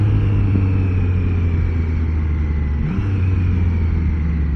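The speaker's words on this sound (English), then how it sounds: "Downshifting quick shifter." Triumph Trident 660 three-cylinder motorcycle in sport mode downshifting with a quick shifter, a steady loud engine drone with a brief rev blip near the end, heard up close from the rider's position with no talk.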